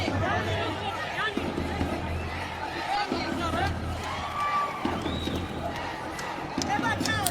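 An enthusiastic boxing arena crowd in Dushanbe, a busy rumble of cheering and chatter that swells and falls, running under steady commentary.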